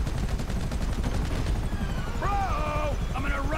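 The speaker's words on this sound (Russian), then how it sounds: "Где вертолет-то? А, вот." A helicopter in the winter edition of GTA 5 gives a loud, steady rotor roar throughout, with a thumping rhythm early on and rising and falling tones layered on top later.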